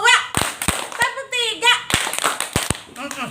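Children in a classroom clap hands in counted bursts, a few sharp group claps spaced between a voice and children's voices calling out.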